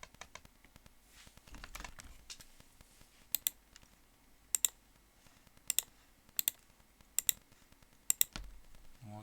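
Computer keyboard typing with scattered soft key clicks and several sharper, louder key taps at irregular intervals, close and quiet with no one speaking.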